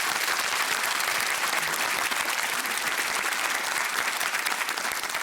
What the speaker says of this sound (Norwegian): En applaus for folkejuryen.